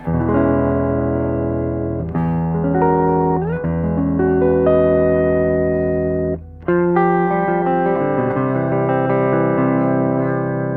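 A distorted electric guitar plays through a 1952 Fender 600 tube amp, sustained chords and notes, warm and gritty mid-range distortion, with a short pause midway before the playing resumes.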